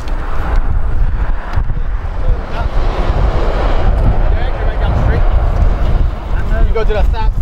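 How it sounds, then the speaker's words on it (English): Strong outdoor wind buffets the microphone at a roadside, producing loud, continuous low rumbling and gusty roar throughout, with a person talking under the noise. "That wind is cutting up."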